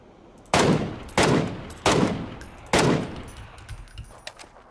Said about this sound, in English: They're shooting at guys in the compound.